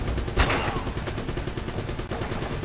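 Gunfire in the video game Uncharted: Drake's Fortune, with one loud, sharp shot early on over a dense, busy game soundscape of continuous combat noise.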